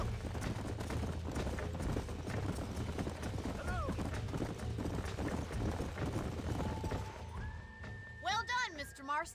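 Horses trot in the video game Red Dead Redemption, their hooves clip-clopping in a steady, close rhythm over a low background, and one horse gives a short whinny near the end.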